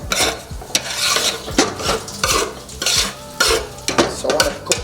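Dry cream of wheat is parched in a pot, a spoon scraping and rasping against the metal in repeated loud strokes over a faint toasting sizzle.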